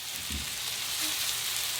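Chicken fries in a pan for gluten-free chicken parmesan with a steady, close sizzle and crackle of hot oil. The sound holds even and continuous throughout, with no talking.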